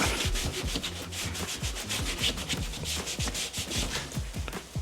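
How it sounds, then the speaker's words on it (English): A dry rag rubbing briskly across a car window during film tinting on a 2017 BMW X6, with steady back-and-forth strokes close to the microphone and no talking. "I'll grab a dry part of my rag and then go and just rub that off"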